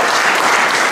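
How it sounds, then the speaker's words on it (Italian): Dense audience applause at a talk, loud and close, a continuous wash of many hands clapping with no voices over it. "lo facciamo l'applauso a Sigma"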